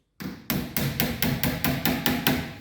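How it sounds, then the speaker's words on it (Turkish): Nails are hammered into a wardrobe door during furniture assembly, a sharp opening hit followed by eight steady, evenly spaced strikes that ring loud and close with no talking. "Sonra sağ alt tarafa çivi atıyoruz."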